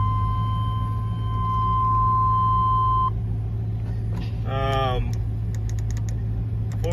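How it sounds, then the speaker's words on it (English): A 1999 GMC Suburban engine idling steadily after starting, a low continuous rumble under a long warning chime, a short burst of beeping tones and a few clicks. "Fires right up."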